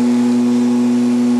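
A CNC spindle motor spins at high speed on a plug-and-play desktop CNC setup, giving a loud, steady electric whine with a strong constant hum throughout, close and alone.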